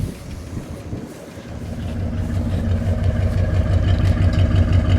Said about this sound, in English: Let me listen to it idle.